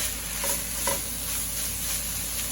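Picadillo meat with tomatoes and onion cooking in a pan, a steady soft sizzle with faint stirring scrapes throughout, fairly quiet and close, no talking.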